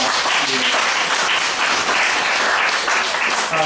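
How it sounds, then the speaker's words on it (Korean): Congregation applause at a Korean church service on the eve of Parents' Day, a dense, steady clapping that fills the whole stretch at close range, with faint voices mixed in beneath it. "힘차게 박수 한번"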